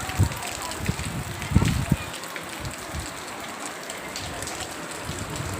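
Rain falling outdoors at a house in Nanded, a steady hiss of drops with some louder thuds early on, with speech over it.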